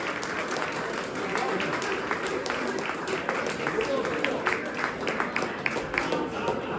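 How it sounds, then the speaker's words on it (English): An audience at a Republican National Convention event in Wisconsin bursts into sustained applause, a dense crackle of many hands with a few louder, sharper claps near the front and a faint murmur of voices underneath. "Please, a round of applause for Ambassador Grenell."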